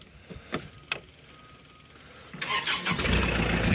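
A tractor fitted with a three-point hitch and a Woodland Mills WG24 stump grinder, PTO not yet connected, clicks and cranks before the engine catches and rises into a loud, steady running roar.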